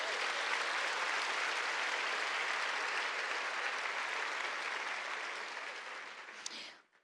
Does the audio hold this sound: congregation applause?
yes